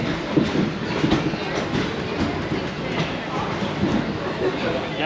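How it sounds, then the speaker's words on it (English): A theme park train at Disney's Animal Kingdom rolls along its rails leaving Rafiki's Planet Watch, giving a steady low rumble with faint rhythmic clatter throughout, and voices chattering nearby. "So we are back on the train."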